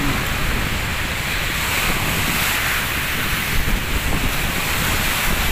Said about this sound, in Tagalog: Taas pa rin yung alon dito sa Manila Bay.